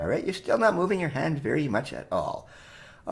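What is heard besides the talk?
None of the usual background noises is heard.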